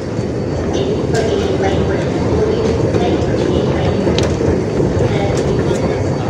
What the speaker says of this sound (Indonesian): Sebelah kanan ya keretanya.